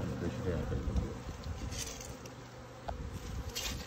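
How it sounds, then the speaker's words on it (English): Winter bees buzz at a beehive by a front porch in a steady, close droning hum, with individual bees passing near, faint voices talking now and then in the background. "They're doing good enough for winter bees."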